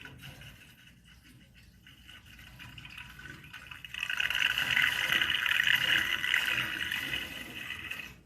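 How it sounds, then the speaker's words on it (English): Water rushes steadily into a boiler through its automatic feed, hissing softly at first, then swelling into a louder, continuous gushing flow. "Right away, your water is going in."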